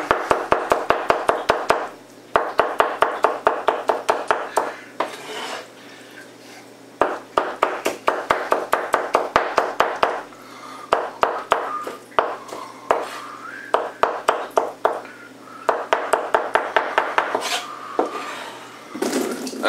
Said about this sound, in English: I got to cut small pieces.